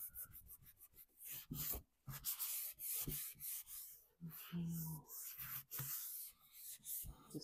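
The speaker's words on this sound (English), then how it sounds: "I just can't get over what wax can do to a piece. So wax on," A cloth rubs wax onto an antique wooden furniture piece, giving a close, steady scrubbing swish in repeated back-and-forth strokes with brief pauses.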